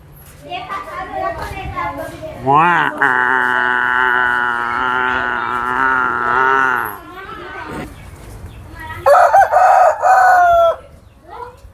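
A rooster on a village farm, kept among cows, buffalo and ducks, crows loudly in one long drawn-out call, then gives a second shorter crow. Voices murmur faintly beneath.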